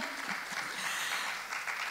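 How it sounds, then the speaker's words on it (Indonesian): A church congregation applauds during a sermon, a continuous wash of many clapping hands heard at moderate distance for about two seconds. "Berikan tepuk tangan buat Tuhan."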